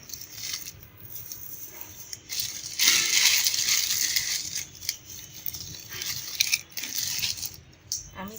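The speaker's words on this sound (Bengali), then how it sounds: "এখন লাচ্চাগুলো দিয়ে দিব।" Fried lachcha semai vermicelli, made with soybean oil, tipped into a pan with a dry, crackly crunching and rustling that swells around the middle and continues in scattered brittle crackles; no talking.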